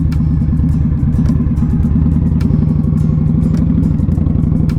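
A motorcycle engine drones steadily up close with a constant rumble, plus faint passing traffic noise around it; no talking.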